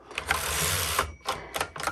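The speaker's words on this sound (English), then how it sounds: "so very, very fun typewriter. And I could type quickly on this one" A 1911 Royal Standard No 1 manual typewriter clatters as keys are struck, a quick burst of close mechanical clacks followed by several separate keystrokes.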